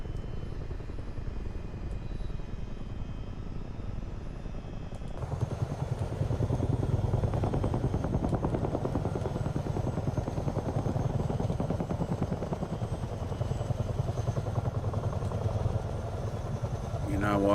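Rotor and engine drone from a CH-47 Chinook helicopter in Microsoft Flight Simulator, a steady low roar that grows louder and thicker after a few seconds and holds, with a voice talking over it.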